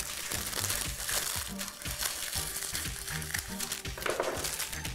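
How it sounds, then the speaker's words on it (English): Cellophane is cut and handled while making a floral arrangement, giving close, busy crinkling and crackling throughout, with faint voice-like bits underneath. "After I put the foam correctly, and then I cut the cellophane."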